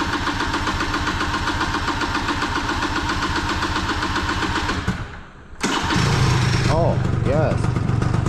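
An Italjet 180cc two-stroke dragster scooter cranks and catches, its raspy engine buzzing steadily, cutting out briefly, then firing again into a rough idle with a couple of throttle blips while someone speaks over it.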